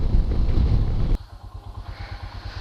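A Royal Enfield Himalayan motorcycle rides along a jungle road, first buried under a loud rush of wind, then its single-cylinder engine thumps in a steady, close pulse once the wind drops.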